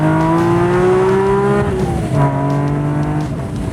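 A Lamborghini race car runs on a circuit, its engine note loud and close, sliding down in pitch as it shifts and then settling into a steady high drone, alone without voices.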